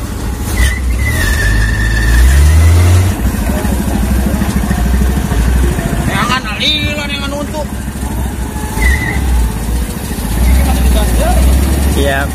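An old, legendary truck's engine runs loud and close while the driver hunts for reverse gear, a steady rough rumble broken by brief mechanical squeals and clunks.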